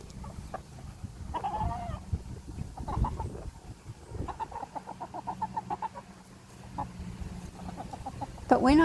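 Full-grown chickens in a fenced run cluck in short repeated bursts, with a few louder squawks near the end, heard close by over scratchy background noise.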